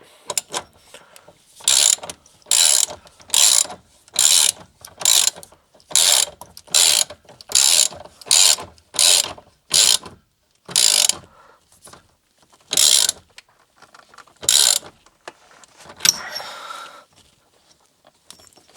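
A rally steering wheel is tightened onto a Peugeot 205 with a ratchet, giving a long run of loud, crisp clicking bursts in a steady rhythm that turns sparser toward the end.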